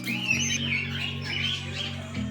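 Several birds chirp and call at a deer park, short bright tweets and squawky calls repeating over a steady low hum, moderately close and with no talk.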